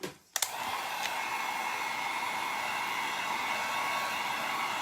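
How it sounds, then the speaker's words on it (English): A heat gun blowing on a painted wood farmhouse sign, a loud steady whooshing roar that starts after a brief click and runs unbroken to the end, with no talk. "I'm going to hit that with a heat gun"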